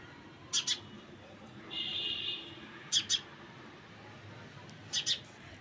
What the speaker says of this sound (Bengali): ওই যে একটা পাখি আসছে